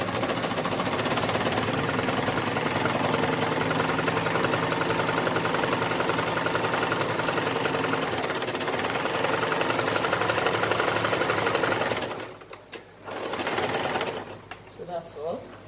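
A sewing machine back stitching while sewing in a zipper hums in a steady, loud mechanical drone for about twelve seconds, then stops, followed by a few short whirs and clicks.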